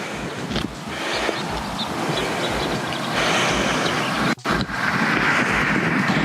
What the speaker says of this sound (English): There's a truck coming in the country. Just gonna wait for it to go past.